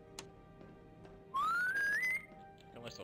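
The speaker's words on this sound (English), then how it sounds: "There you need to work on your whistling." A person whistles a single rising tone for under a second, loud and clear against a quiet background, in a Star Wars roleplay game session.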